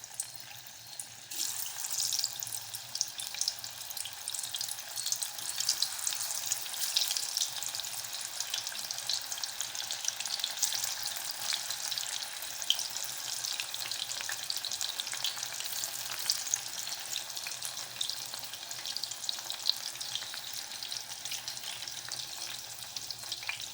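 Mushrooms dropped into hot oil for mushroom 65, a dense, steady frying hiss that starts up after a brief quieter moment and keeps bubbling evenly throughout, close and without speech.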